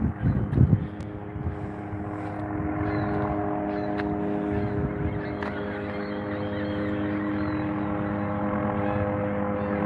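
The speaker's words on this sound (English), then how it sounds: "helicopter." A helicopter flies overhead outdoors, a steady droning rotor and engine hum that holds for the whole stretch, moderately loud, with wind noise on the microphone.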